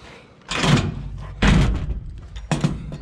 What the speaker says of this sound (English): Yeah, we got this door locked.